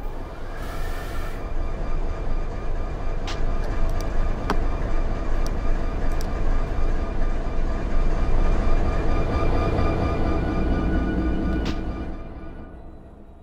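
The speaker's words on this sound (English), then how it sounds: "So I'm going to go ahead and spawn this train." Train running in the Run8 train simulator game, a steady broadband rumble with a continuous low drone, sustained throughout with occasional brief clicks and a short hiss near the start, fading slightly at the end.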